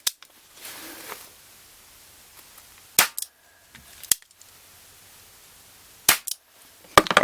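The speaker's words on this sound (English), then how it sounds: "I am going to be shooting the apple and the orange with my .22 caliber." Sharp .22 caliber rifle shots, a few separate loud cracks spaced seconds apart, fired at an apple and an orange in an otherwise quiet outdoor setting.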